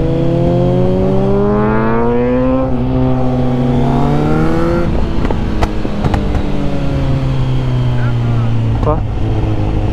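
A 2021 Kawasaki Z900 motorcycle fitted with a quickshifter revs hard through quick, rising upshifts, loud and close, then settles into a steady lower drone, while people talk over it.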